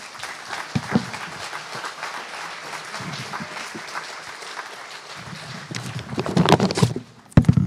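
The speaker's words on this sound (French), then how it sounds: "On peut l'applaudir encore." Applause ripples through a congregation at a church baptism service, steady at first and then growing louder and denser toward the end, with a brief gap before the clapping resumes.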